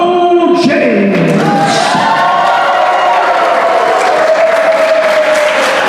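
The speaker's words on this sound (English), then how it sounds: "put your hands together and make welcome the president, the owner, and the founder of Southern States Wrestling, Mr. Beau James" A loud, sustained mass of cheers, whistles and applause fills a Southern States Wrestling show as the crowd roars for the company's owner and president, with no pause throughout.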